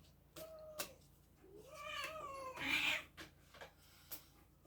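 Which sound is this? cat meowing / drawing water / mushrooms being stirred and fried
cat meowing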